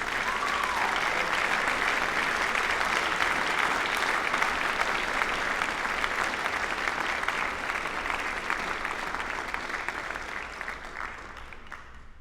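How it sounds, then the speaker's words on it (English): A high school senior awards audience applauds students coming up to be recognized, with long, dense, steady clapping that fills the hall and gradually tapers toward the end. "One more round of applause."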